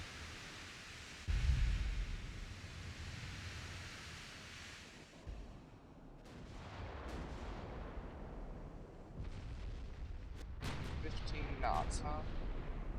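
Warship guns fire in the naval battle game Ultimate Admiral: Dreadnoughts, a heavy low boom early followed by distant rumbling salvos and crackling impacts over a steady sea-like wash, with a voice talking at points.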